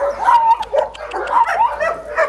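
A dog barks and yips during leash walk training, a quick run of sharp, high barks and whimpering whines, close and loud with short pauses between bursts.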